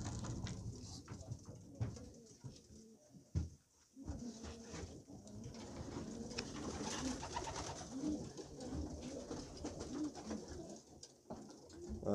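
Racing pigeon hens cooing in a loft, a steady mix of soft, overlapping coos and rustling from many birds close by, with occasional louder bursts and no talk.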